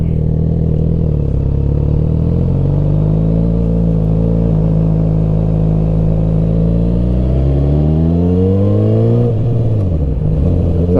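A 1000cc sport motorcycle engine runs steadily and loud while riding in second gear, its low harmonic drone holding even, then rising in pitch as it revs up before dropping off sharply near the end.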